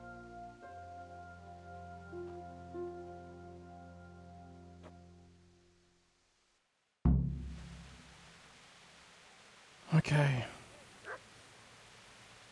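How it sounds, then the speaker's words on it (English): A dog barks in Kingdom Come: Deliverance, a sudden loud burst of a few sharp yelps and barks after a quiet pause, following a stretch of game music, with a brief spoken word. "I hear a dog."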